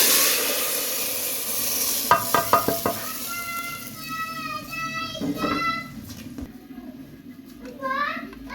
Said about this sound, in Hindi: तो अब इसमें अब तड़का जाएगा।